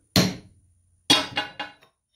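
Sharp metallic hammer knocks on a transfer punch set into metal, one strong strike followed after a pause by three quick lighter taps, close and clear.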